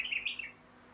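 A tame white-rumped shama gives a brief, clear whistled phrase of two or three rising-and-falling notes, close and fairly loud, then quiet.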